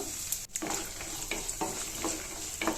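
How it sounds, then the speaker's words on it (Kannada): Peanuts, urad and chana dal, cumin and dry red chillies fry in oil for mint rice, giving a constant close sizzle with a few soft stirring scrapes. "ಕಡಲೆ ಬೀಜ ಉದ್ದಿನಬೇಳೆ ಕಡಲೆಬೇಳೆ ಫ್ರೈ ಮಾಡ್ಕೊಳ್ಳೋಣ ಈಗ ಒಣಮೆಣ್ಸಿನ್ಕಾಯಿ ಒಂದೆರಡು"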